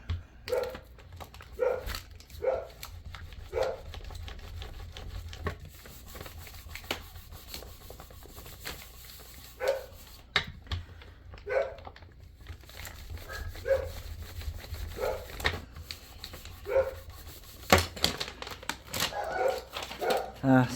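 Several dogs bark at a distance in short scattered bursts, faint and intermittent against a steady low background hum.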